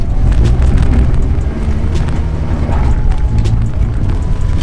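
A Honda Civic with a manual transmission driving, a loud, steady rumble of engine and road noise with wind buffeting, no talk.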